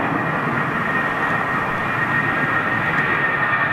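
A heavy British Airways 767 climbs out of Heathrow low overhead, a loud, continuous jet roar with a high whine riding on top, with no other sounds around it.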